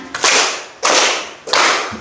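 Three loud, sharp hand claps along to a children's song, spaced evenly apart, close and ringing, with nothing else in between.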